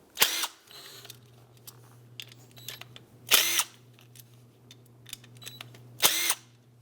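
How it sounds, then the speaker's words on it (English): A power driver with a T25 bit backs out the three screws holding a window motor to its regulator on a 2001-2007 Toyota Highlander. There are three short, sharp whirring bursts separated by quiet clicks and handling noises. "Now with a T25, let's remove these 3 screws that hold the motor onto the regulator."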